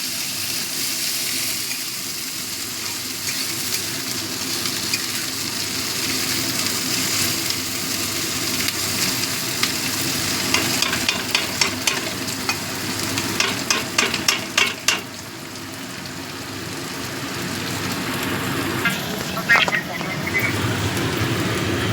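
Mashed eggplant for begun bharta is stirred and fried in a pan: a steady close sizzle with a run of scraping spoon strokes against the pan midway.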